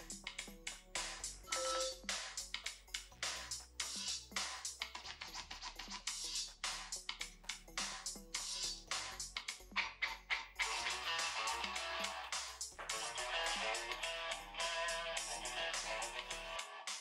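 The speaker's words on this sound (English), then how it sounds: "Let's try to launch an MP3 stored on my phone to test the speakers." An MP3 music track plays through the built-in speakers of an Onyx Boox Note 3 e-reader tablet, a steady, loud stream of rhythmic music with no talking.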